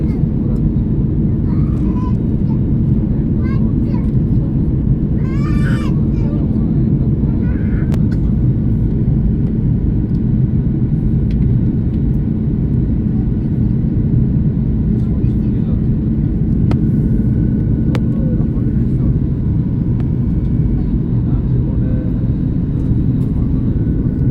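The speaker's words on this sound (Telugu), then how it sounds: "ఫ్లైట్ ఇప్పుడు సరి సమానంగా వెళ్తూ ఉంది." Airplane cabin noise during a steady cruise on a flight from Bengaluru to Vijayawada, a loud constant low engine rumble throughout, with faint distant chatter and a few small knocks over it.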